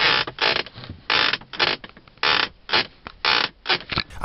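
A creaking effect stands for a creaky early 2015 Renault Kadjar. About nine loud, close, drawn-out creaks come in an uneven rhythm, with no talk over them.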